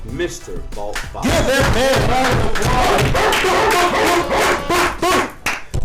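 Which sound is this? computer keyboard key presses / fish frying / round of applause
round of applause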